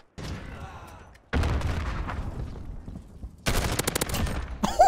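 Rapid automatic gunfire from a Modern Warfare video game bursts out in loud, dense volleys, separated by brief gaps and growing more intense toward the end.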